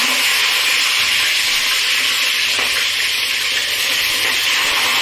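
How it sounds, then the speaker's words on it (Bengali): Fish heads frying in hot mustard oil in a wok, a dense, steady, loud sizzle and crackle heard close up and unbroken, with no voices. "এইভাবে সব মাছের মাথাগুলোকে ভেজে নেব"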